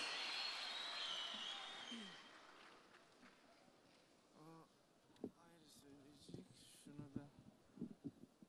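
Audience applause at a dombra concert in Harbiye, Istanbul, loud and dense for the first two seconds, then fading away as a voice speaks over a quiet hall.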